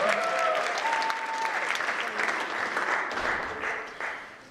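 Audience applause after a girls' dance routine at a Distinguished Young Women program in Brookfield-Elm Grove, a dense, steady roomful of clapping that holds for several seconds, with some voices mixed in near the start before it tapers toward the end.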